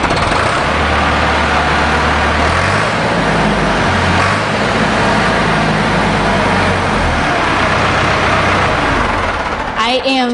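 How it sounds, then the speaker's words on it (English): A Ford diesel tractor of the 2000–7000 series, fresh from an injector rebuild, fires up and settles into a loud, steady rumbling run close by, with a clatter near the end. "I'm ready to start this tractor up and see the improvements that we've made."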